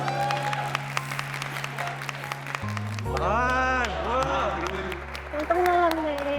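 A small group claps warmly after a marriage proposal, a few seconds of close applause layered over soft background music, with voices speaking around it.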